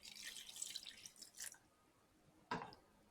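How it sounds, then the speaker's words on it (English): Water pours and drips into soursop pulp while Jamaican soursop juice is being made, first as a run of splashing trickles, then a short louder splash near the end, close and fairly faint. "I'm just going to add some water."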